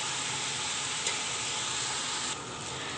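Chickpeas frying with chopped tomatoes and green chillies for degi chana pulao give off a steady, close, even sizzle that holds without a break, with no voices over it.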